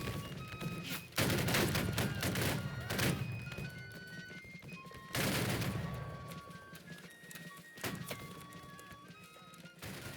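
Massed musket volleys in the Civil War video game Battle Cry of Freedom, loud crackling fusillades rolling through with scattered single shots and tonal game sounds between them.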